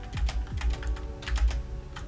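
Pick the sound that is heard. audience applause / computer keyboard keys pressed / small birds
computer keyboard keys pressed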